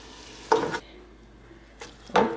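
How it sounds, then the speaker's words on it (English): Birria meat goes back into a pot in two short bursts of scraping and clattering, with a quiet gap between them. "we are going to take this meat and put it back in to the pot"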